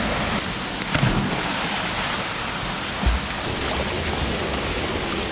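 A roughly 80-metre waterfall on Flores in the Azores, a swimming spot, roars as a steady, dense broadband rush close by, with a couple of brief louder splashes and no voices.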